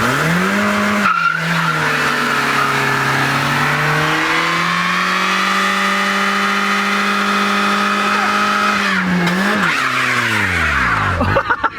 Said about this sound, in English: I just want to film a burnout.